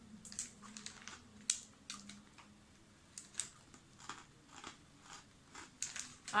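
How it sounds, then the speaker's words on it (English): Crunchy bruschetta topped with tomato is bitten and chewed close up, a run of crisp, irregular crunches and clicks with no talking. "Definitely got the crunch of a bruschetta."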